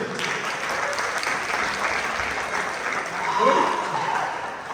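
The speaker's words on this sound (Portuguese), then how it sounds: "Uma salva de palmas pro Fireman" A studio audience applauds the Fireman crew with a steady wash of clapping that holds level and swells slightly near the end, with a faint voice underneath.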